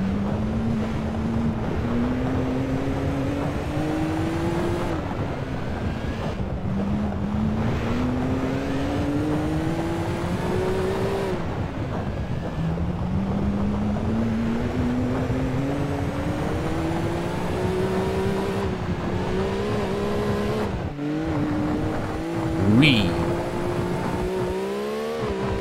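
Race car engine in Gran Turismo 2 on the PlayStation, lapping a dirt track in arcade mode, a loud continuous droning whine that rises and falls through gear changes with brief drops between shifts, alone without talk.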